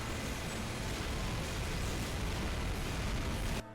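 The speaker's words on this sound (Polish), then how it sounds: "Łącznie wyszła chyba z 80 wystrzałów z lufy działka." Animated cannon gun firing a dense, continuous barrage of shots, the blasts blurring into one loud, steady roar that cuts off abruptly near the end.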